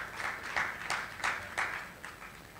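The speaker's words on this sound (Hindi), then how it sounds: "हम तालियों के साथ अव्यक्त जी का इस समय स्वागत करें" An audience claps in steady waves to welcome a speaker onto the stage at a public lecture event, the applause moderately loud and a little distant, with no voices over it.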